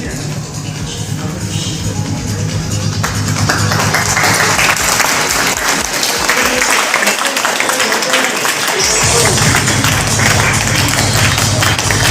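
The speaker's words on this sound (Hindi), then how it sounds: "तालियों में आपका स्वागत है।" An audience claps loudly and steadily throughout at a prayer and fasting gathering in Pathalgaon, Chhattisgarh, the dense applause filling the whole stretch without letting up.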